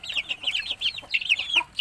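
Young chicks and hens on a native chicken farm give a rapid run of high chirps and soft clucks, close and fairly faint, with no talking.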